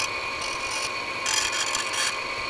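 A pen blank is profiled on a spinning lathe, with a steady motor hum under a continuous scraping rasp that grows harsher for about a second midway through.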